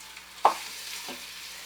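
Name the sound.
beef sizzling in hot olive oil in Instant Pot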